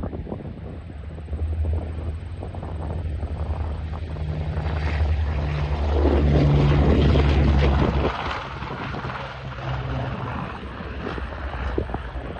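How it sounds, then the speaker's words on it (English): A steady propeller engine drones at close range as the plane slowly takes off, swelling louder for a few seconds before easing back to a constant hum. "This plane takes off really slowly."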